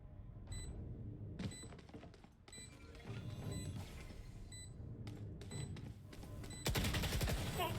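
Gunfire from a Valorant match comes in rapid bursts and single cracks, with sharp high-pitched clicks, and closes with a louder sustained barrage.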